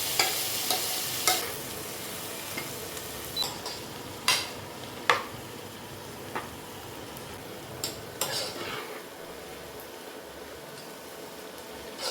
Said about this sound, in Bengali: ফার্স্টে প্যান গরম করে তাতে দিয়ে দিচ্ছি বাটার, আদা আর রসুন, তারপর চপ করা সব ভেজিটেবল